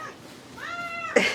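A held cat lets out a rising, drawn-out meow that swells into a sharp, loud scream at the end, close and alone without talk.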